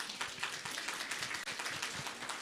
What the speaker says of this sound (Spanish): Una vez más vamos a dar fuertes aplausos.